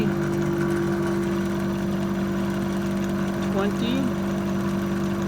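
A Mercedes 190SL engine with a rebuilt distributor idles steadily after starting, a continuous close low rumble with a brief voice speaking over it.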